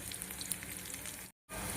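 Tempering sizzling in hot oil in a pan while sabudana upma is made, a steady dense crackle and hiss that cuts out for a moment and then resumes just as loud.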